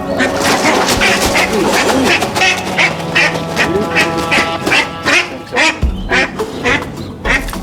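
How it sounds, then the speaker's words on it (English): A mother duck and her ducklings during a rescue quack loudly and continuously in rapid, overlapping bursts, close by and filling the scene. "the ducklings are showing no signs of coming quietly"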